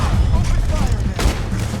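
Gunfire in a Red Dead Redemption 2 shootout, a dense burst of overlapping shots and booms filling the clip loudly, with a heavier crack near the end.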